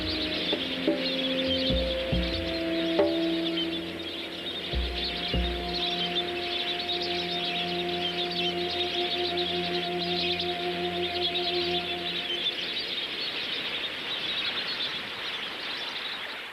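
A large flamingo flock calls across a soda lake, a dense continuous honking chatter with a few louder drawn-out calls standing out early, steady and unbroken with no voices.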